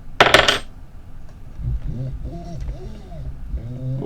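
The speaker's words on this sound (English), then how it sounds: "Oh, that's sounding much less rattly now. It's sounding almost like a CNC router." An Inventables X-Carve CNC machine runs after being tightened, now less rattly: a sharp metallic clatter at the start, then repeated rising and falling motor whines close by.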